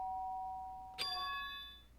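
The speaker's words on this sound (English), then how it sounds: "The doorbell? Does that mean someone's here?" A doorbell chimes once inside the Danganronpa 2 video game at night, a bright ringing tone with a long decaying tail over a steady background hum and a held synth note.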